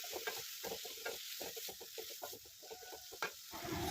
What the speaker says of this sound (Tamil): தென் வெங்காயம் நல்லா வதங்கி வந்ததும் அது கூட நம்ம கட் பண்ணி வச்சுருக்கிற தக்காளியை வந்து ஆட் பண்ணிக்கணும்.